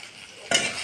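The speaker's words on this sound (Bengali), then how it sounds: "তারপরে পেঁয়াজটা নাড়াচাড়া দিতে হবে" Onions stirred and fried in a pan for shingi fish bhuna, a soft sizzle that jumps suddenly louder halfway through as the stirring scrapes in, close and steady.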